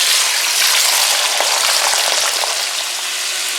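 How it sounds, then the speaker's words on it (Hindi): Chicken pieces deep frying in hot oil for a white chicken karahi, a loud, steady sizzle and crackle that fills the whole stretch close up, with no talking. "और चिकन को डीप फ्राई कर लेते हैं।"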